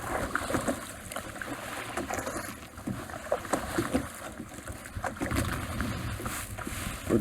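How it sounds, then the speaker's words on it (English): A canoe is paddled on open water at Meridian State Park, with soft repeated paddle strokes and splashes under a steady wash of water and wind noise, no voices. "just keep paddling, just don't go crazy, just keep it calm"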